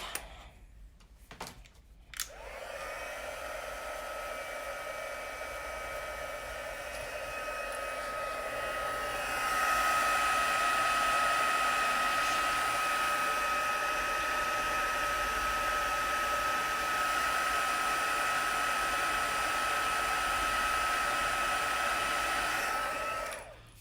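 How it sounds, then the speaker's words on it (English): A handheld heat embossing tool blows hot air as a steady, close whirring hiss that runs for about twenty seconds and grows slightly louder partway through before cutting off, with no talk over it. "I have my heat tool,"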